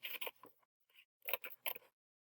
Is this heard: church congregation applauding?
no